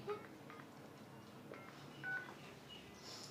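A few short telephone keypad tones sound on a dial-pad mobile phone, heard as separate brief beeps with small gaps between them over quiet room noise.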